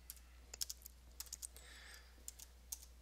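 Scattered keystrokes on a computer keyboard, sparse and uneven taps over a low steady electrical hum, quiet and near.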